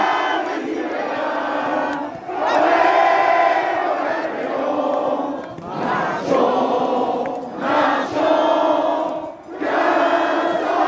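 A large crowd roars and chants at a biathlon World Cup mass start men's champions celebration in Le Grand-Bornand, loud sustained cheering swelling in repeated waves.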